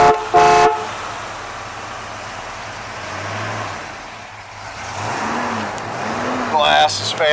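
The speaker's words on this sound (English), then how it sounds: "Let's hear the horn." Horn of a 1971 Dodge Charger R/T with the 440 Six Pack V-code engine, sounding as a couple of short honks close by, with people talking around it and a brief knock at the start.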